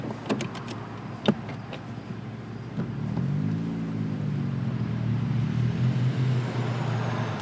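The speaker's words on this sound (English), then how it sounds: "it's full throttle all the way through an entire gear" Turbocharged NB Mazda Miata engine pulling at full throttle through second gear, its tone rising steadily as revs climb after a few brief clicks and knocks, a sustained droning roar that holds to the end.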